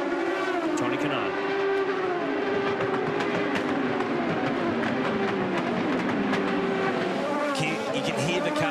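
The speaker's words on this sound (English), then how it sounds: "You can hear the cars popping and banging on the down towards the chicane." IndyCar race cars at the 2008 race in Australia popping and banging on the downhill run toward a chicane, a dense continuous engine roar with crackling overrun and shifting pitches, loud and steady throughout, with a voice talking over it.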